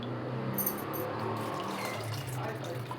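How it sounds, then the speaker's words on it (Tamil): Tamarind water pours in a steady, continuous stream into a pot of turkey berry and moong dal sambar. "புளி தண்ணி ஊற்றிக்கலாம்"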